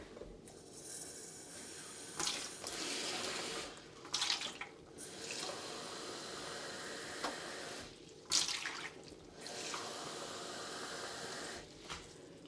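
Tap water runs steadily into a sink while dishes are washed at home, a close, constant splashing rush broken by brief pauses and clinks, with no talking.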